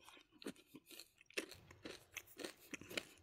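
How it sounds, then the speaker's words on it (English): Close, crisp crunching as crunchy Peanut M&M's chocolate candies are chewed, with irregular bites and grinding crunches in quick succession and no talk. "The peanuts provide that somewhat softened crunch."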